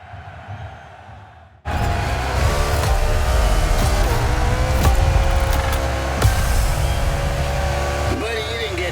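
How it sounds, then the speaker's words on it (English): Race car engines start up suddenly and hold a loud, sustained, near roar at the start of a race in The Crew Motorfest, with brief rises in revs and clunks over the steady drone. "Drivers, start your engines!"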